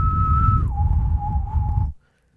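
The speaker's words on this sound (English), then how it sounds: "The very weak, like, desert whistle." A person gives a thin, weak whistle: one sustained note that dips slightly in pitch partway through, then cuts off abruptly over a low rumbling background.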